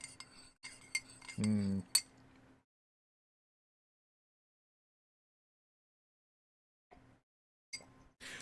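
A metal spoon clinks against a cup while stirring a hot drink, with a few sharp taps and a short scraping swirl, close and fairly quiet, followed by silence and a couple of faint knocks.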